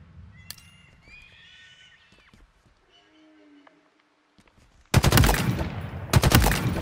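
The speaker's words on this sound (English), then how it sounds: "I can just do noob combos with the plasma pistol on the remaining enemies" Plasma pistol gunfire against enemies in the video game Halo Infinite: after quiet ambient sounds, loud, rapid bursts of energy weapon fire break out in two dense stretches near the end, close and alone.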